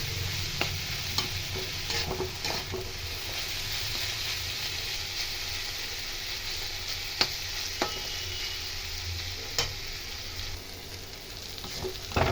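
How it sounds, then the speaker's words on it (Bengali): Steady frying sizzle of raw banana with Kashmiri chilli powder in a pan, with intermittent scraping and clinks of a spatula stirring, close and continuous throughout. "এভাবে নেড়ে নেড়ে আমি ভাজা ভাজা করে নিচ্ছি"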